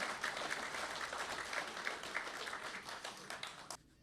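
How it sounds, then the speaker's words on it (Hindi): An audience at a mushaira poetry gathering claps in a dense, steady burst of applause that cuts off abruptly near the end. "ज़ोरदार तालियों से आइए मुशायरे का इस्तकबाल"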